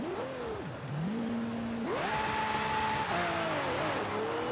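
A car launches from a standstill in Forza Horizon 5, its engine revving up through rising gear-shift steps, loud and continuous with no talk over it.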